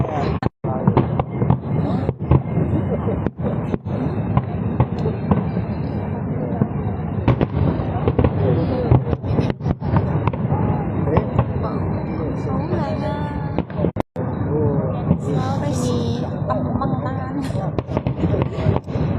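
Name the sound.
fireworks exploding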